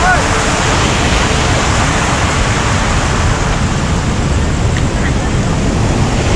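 Ocean surf surges onto the rocky shore at Karang Hawu beach as a loud, unbroken roar, mixed with wind buffeting the microphone.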